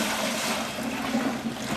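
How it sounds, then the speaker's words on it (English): Pre-mixed soap cleaning solution poured into a container, a short steady liquid splash and gurgle lasting under two seconds, close and moderately loud with no voices. "This is solution already mixed up, so I'll just pour it in on it."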